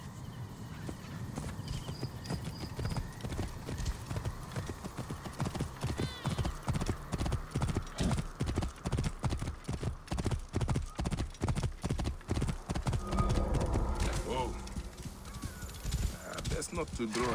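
Horse hooves clip-clopping in the video game Assassin's Creed Origins, a steady rhythmic trot that grows louder midway, with a whinny and characters talking over it.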